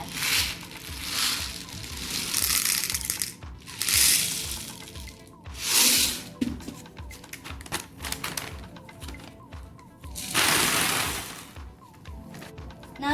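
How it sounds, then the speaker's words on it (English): Popcorn kernels pour into a brown paper bag in bursts of hard rattling patter, a few rushing pours separated by short pauses, close and fairly loud. "I'm going to pour the popcorn kernels inside here"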